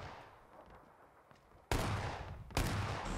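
Shotgun blasts in the PUBG video game, two loud sudden booms about a second apart, each followed by a lingering rumble over faint background noise.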